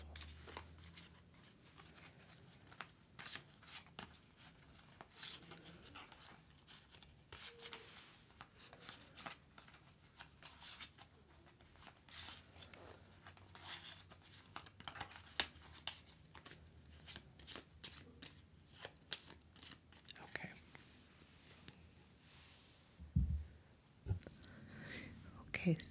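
A deck of cards shuffled during a Tiny Epic Defenders second edition tabletop game, soft riffling and tapping bursts close by, spread through a quiet stretch with low soft-spoken talk between them.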